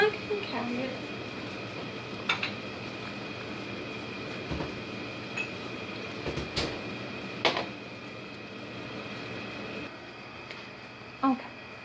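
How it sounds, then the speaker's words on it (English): Home-canned jars cooling after filling, their lids sealing with a few sharp, isolated pops and clicks spaced several seconds apart over a steady low background hum. "there I just heard one pop down"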